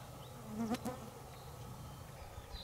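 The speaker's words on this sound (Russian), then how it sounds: "Мошка прям летает, летает, кусает." A swarm of biting midges buzzes close by near a river during a fishing trip, a thin steady whine with a brief louder pass as one flies near, over faint outdoor background.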